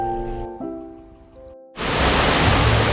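A waterfall beside the mountain road to Lakhamandal, heard as a sudden loud, steady broadband roar of rushing water that cuts in after a stretch of sustained musical tones and fills the rest of the clip.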